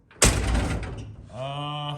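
The passenger door of a low-trim truck shuts with a sharp, loud thump, followed by a brief rattle, and then a voice speaks.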